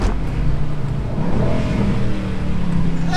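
A Mercedes-AMG GLC 63 SUV engine revs hard under acceleration, a steady, loud, full-bodied roar that holds for the whole stretch without talk.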